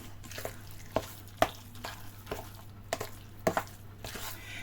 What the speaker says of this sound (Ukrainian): І ось тепер оце все вимішуємо в однорідну суміш.